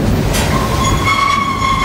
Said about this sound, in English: Stobie Jim Kenobi pulling out of Klamath Falls on Burlington Northern, heading south.